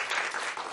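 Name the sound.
applause for the saxophone player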